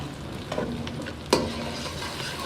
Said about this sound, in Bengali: এই যে কড়াইতে তেল দিয়ে দিচ্ছি, পেঁয়াজ দিয়ে দিলাম